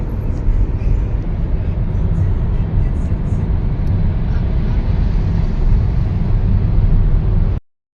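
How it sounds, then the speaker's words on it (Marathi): A car climbing a ghat highway, heard from inside the cabin as a loud, steady broadband road and engine rumble that continues without a break until it cuts off abruptly near the end. "आणि इकडे रंगनाथ दादा गाडी चालवत आहे."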